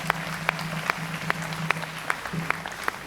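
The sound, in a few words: congregation applauding to acclaim the Lord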